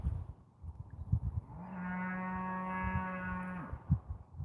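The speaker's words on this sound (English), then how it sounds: "Hear those cows?" A cow on a farm where cattle have just been calving lets out one long, loud, sustained moo, clear and fairly close, against a background of rustling and handling noise outdoors.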